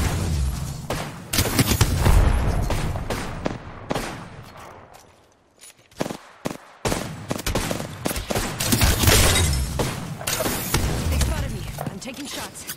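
Weapons fire in Apex Legends, including charge rifles, comes in rapid bursts of loud gunshots. The clusters of shots break off into a quieter lull midway, then return as sharp, separated cracks and renewed firing.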